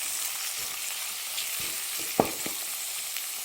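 Chopped tomatoes fry in a pan on the stove for masala bhelpuri, giving a soft, steady sizzle, with a few sharp utensil clinks partway through and no talking.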